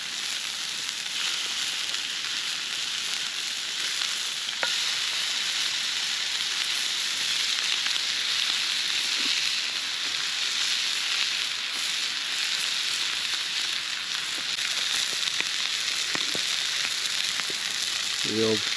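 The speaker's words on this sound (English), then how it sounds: "How's that for a sizzle?" Steady, loud frying sizzle from burgers in a hot pan at a wild island campsite, a continuous crackling hiss with occasional pops throughout.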